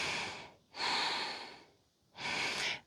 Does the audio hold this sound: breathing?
yes